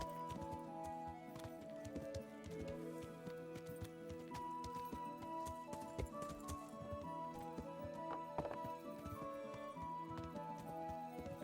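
Steady clip-clop of a horse's hooves in Kingdom Come: Deliverance, trotting at an even rhythm with a continuous layer of game music and ambience underneath, and no talk.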